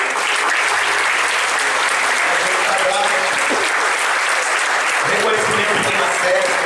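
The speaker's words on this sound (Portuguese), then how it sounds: "uma salva de palmas para os nossos músicos" A church congregation applauds its musicians in steady, dense clapping that fills the whole stretch, with voices faintly mixed in underneath.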